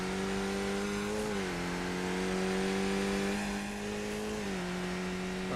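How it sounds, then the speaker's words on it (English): A racing car engine in the iRacing simulator drones loudly and steadily throughout, with pitch dips as the driver lifts and shifts before the revs climb again, with no talk over it. "I think maybe I had the car sound up too high there"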